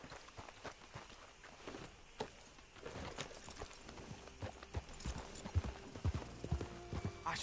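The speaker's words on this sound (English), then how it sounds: "Can't hide from me, little white horse." Horse hooves clip-clop in an uneven walking rhythm in Red Dead Redemption 2, growing louder and closer, with a faint game soundscape in the background.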